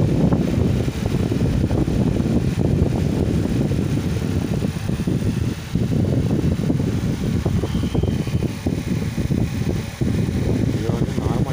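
A small mixer grinder powered by a 12V 7Ah battery runs at its second speed, giving a loud, continuous whirring hum, with a person talking over it.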